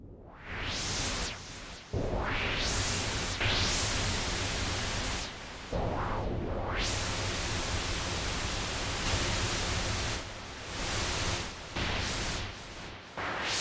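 Steady, broadband hiss of pink noise from a Behringer Odyssey analog synthesizer, fairly loud and continuous, with a few brief dropouts and sweeping filter-like swells.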